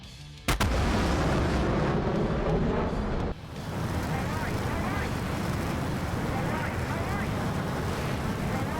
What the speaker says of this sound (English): I'm going to drop a bomb in a bunker.